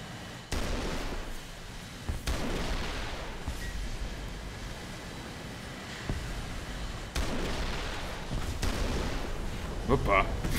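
Rocket explosions hit targets in the War Thunder video game with a steady rumbling roar and several sharp, heavy blasts spread through the clip, mixed with background battle noise.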